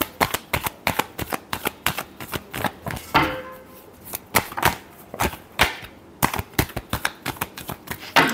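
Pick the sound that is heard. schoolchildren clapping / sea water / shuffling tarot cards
shuffling tarot cards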